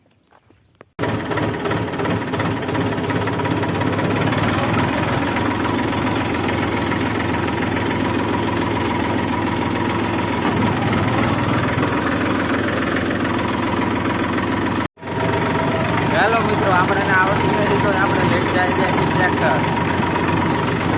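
A tractor engine idles with a steady low chugging rumble and rattling vibration, starting abruptly after a quiet moment and continuing with one brief cut.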